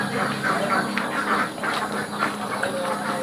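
Domestic ducks quack in a chorus at a backyard duck farm of about sixty female ducks, with overlapping nasal calls and a constant murmur of the flock at moderate distance.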